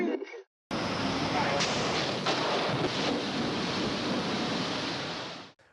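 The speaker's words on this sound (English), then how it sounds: "when we had the implosion of the Chicago Beach Hotel" Implosion of the Chicago Beach Hotel: a sudden, sustained roar of collapsing structure that rumbles and crashes for about five seconds before cutting off.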